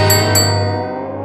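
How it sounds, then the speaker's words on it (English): A bell gives two quick bright dings close together, then the tone rings out and fades over a low steady hum. "A bell started ringing."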